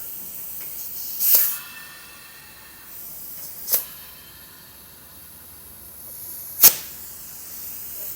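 Three separate sharp bursts of air hiss out while inflating Air Lift LoadLifter 5000 Ultimate rear air springs on a 2024 Ford, against a quiet background, each brief and fairly close, spaced several seconds apart.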